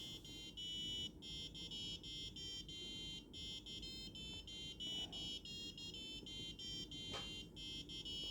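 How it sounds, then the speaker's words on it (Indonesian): A small Arduino buzzer playing a looping music box melody of thin, bright beeping notes in a steady rhythm, faint over a low background hum. "Dan setelah di-upload guys, buzzernya akan berbunyi"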